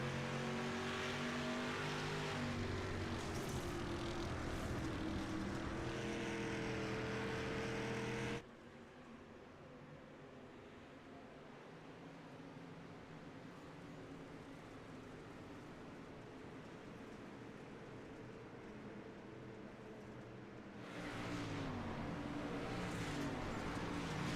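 Race cars circling a track during a 13-lap race, engines droning steadily and loudly, dropping to a quieter distant hum for a stretch before surging close and loud again.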